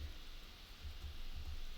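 Rain falls steadily in The Sims 4, a constant soft hiss of drops with low thuds, fairly quiet and uniform without talk.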